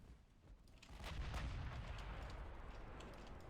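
Big naval guns of a 1920 German fleet firing in the game Ultimate Admiral Dreadnoughts, a distant muffled boom swelling into a sustained rumbling roar, no talk.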